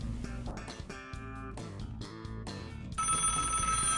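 Many cell phones ringing at once in a Mythbusters-style test: layered electronic ringtones and tonal chimes overlap in a dense, loud cluster, with a brighter, shrill tone joining near the end.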